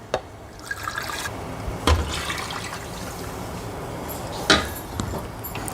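Milk pours from a mixer jar into a creamy broccoli soup, a steady liquid rush with a couple of soft clunks from the jar and pot, fairly close and with no talking.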